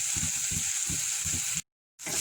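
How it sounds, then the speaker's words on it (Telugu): Chopped garlic frying lightly in oil in a pan while making gobi manchurian, a steady hiss of sizzling with soft rhythmic stirring knocks, briefly cutting out to silence near the end. "మరి ఇందులోని వెల్లుల్లి తరుగు వేసుకోవాలి. ముందుగా ఇవన్నీ లైట్గానే వేగాలి"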